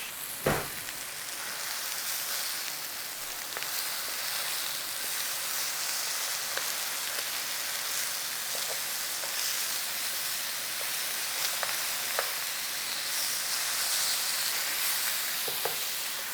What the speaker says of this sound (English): A little bit of charring on the tomatoes.